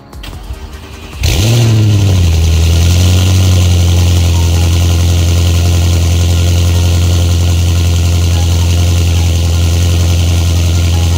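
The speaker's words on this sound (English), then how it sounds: "I wanna give you guys a cold start" An Audi C7 S6/S7 engine fires up from cold with a sharp cranking burst, then settles into a loud, steady, deep high idle that holds close and unbroken to the end.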